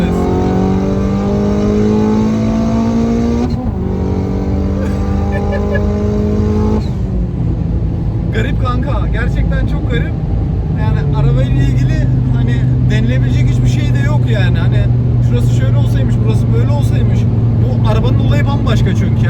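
A 500+ horsepower DS3 with a THP engine revs hard, its engine tone climbing in strong harmonic pulls before turning into a rough, roaring drone, with people talking over it throughout.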